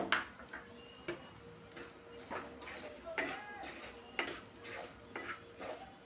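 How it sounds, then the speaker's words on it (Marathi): Carrot burfi mixture with sugar stirred by a spoon in a pan: soft, repeated scraping and tapping strokes at a steady rhythm, close and fairly quiet, with a voice talking over it. "आणि छान अशी साखर पण मिक्स करून घ्यायची आणि सतत चमच्याने ढवळत राहायचं।"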